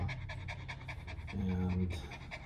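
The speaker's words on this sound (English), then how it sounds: "Very nice dog." A dog pants rapidly and steadily at close range, a continuous rhythmic stream of short, breathy gasps.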